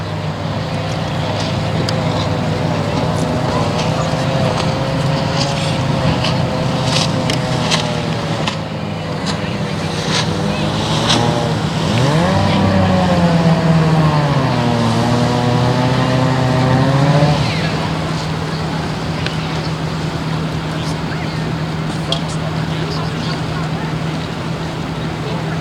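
Outboard racing hydroplane boats on a lake, their engines droning steadily from a distance, with a rising and falling whine as one passes about midway, heard beneath a public-address announcer.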